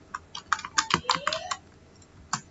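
Computer keyboard keys typed in a quick irregular burst of clicks, close and moderately loud, followed by a pause and one final keystroke, with a faint tonal sweep partway through.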